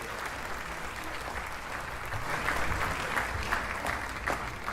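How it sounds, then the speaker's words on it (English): A live audience claps continuously through the moment, a steady rustling patter of many hands that swells slightly midway, mid-distance and moderately loud, with no voices. "They're clapping."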